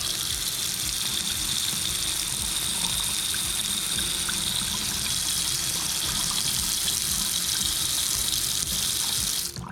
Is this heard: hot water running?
yes